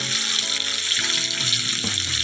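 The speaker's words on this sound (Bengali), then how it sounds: "বীজটাও ভেজে নেব" Rohu fish roe frying in a pan, a steady dense sizzle running continuously under faint background music.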